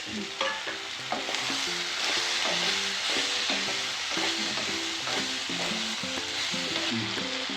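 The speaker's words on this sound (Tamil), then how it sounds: "இப்போ மஞ்சள் பூசணிக்காய் கழுவி கட் பண்ணி வச்சுக்கிறேன். இதை போட்டுக்கலாம்." Yellow pumpkin pieces are tipped into a pan and stirred, giving a steady loud sizzle with repeated scraping strokes of a utensil. Faint background music plays beneath.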